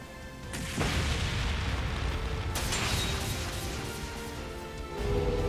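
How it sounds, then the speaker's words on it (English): An improvised flashbang bursts in the game Trails beyond the Horizon: a sharp crash followed by a long roaring rumble, a second bright burst midway, then another heavy hit near the end, loud and without voices. "They made an impromptu flashbang."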